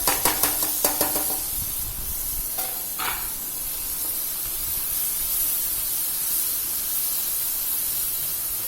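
Green peas tipped into a hot tawa of pulav masala with onion paste give a few quick clattering thuds at the start, then a steady, even hiss of sizzling that carries on alone to the end.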